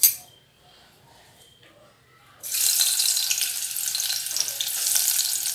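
Onions go into hot oil for a green peas curry: after a quiet moment a loud, close, continuous sizzle bursts up and holds steady, a broad hiss with crackle, no voices.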